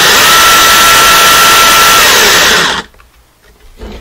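A DeWalt DCS331 20-volt MAX lithium-ion cordless jigsaw runs at variable speed, up to 3,000 strokes per minute, with a loud, dense buzzing whine for nearly three seconds before cutting off abruptly into near silence.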